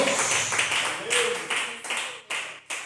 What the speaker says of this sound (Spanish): Den un aplauso al Señor de nuestras vidas